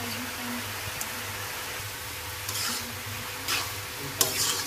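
Fried rice with egg and shrimp is stirred in a pan. A low sizzle runs under occasional scrapes and a sharp clink of a utensil against the pan, fairly quiet and close.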